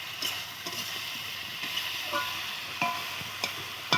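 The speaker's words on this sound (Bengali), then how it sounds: "দিয়ে এটাকে কষাতে থাকবো যতটা ভালো কষাবে ততটাই ভালো স্বাদ হবে" Spice masala for a Bengali rui fish curry being sautéed and stirred in a pan, with a low steady sizzle and scattered clinks and scrapes of the spoon against the metal.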